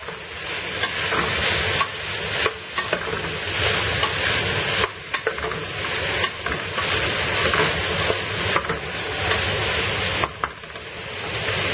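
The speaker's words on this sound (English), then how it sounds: "Give it a nice mix. It's really hot. The pot is really hot." Cabbage and carrot stirred through biryani in a very hot pot, with a steady loud sizzle and hiss and repeated scraping stir strokes throughout, no talk.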